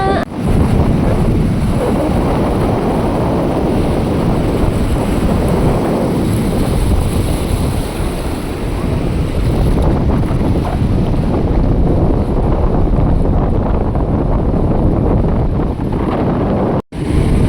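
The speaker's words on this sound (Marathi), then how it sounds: "किती लाटा आहेत बघा" Sea waves roll and break on a beach in a constant loud wash, heavily buffeted by wind noise on the microphone for the whole stretch.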